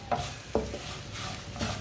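Spices and chillies frying in a pan while eggs and chillies are cooked, a soft steady sizzle with three brief stirring scrapes spaced through it, close and alone.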